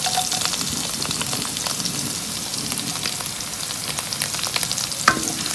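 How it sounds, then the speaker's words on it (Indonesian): Minced garlic sizzles and crackles in hot oil in a pan, a steady frying hiss with occasional stirring sounds, close up and without talk. "kita akan goreng kita punya bawang putih ni sampai dia warna keperangan"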